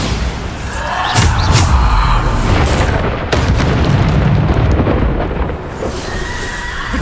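Bombarda spell explosions from Hogwarts Legacy combat: a loud, sustained rumbling blast with a sharp onset and booming low end that keeps rolling for several seconds, followed by further crackling impacts.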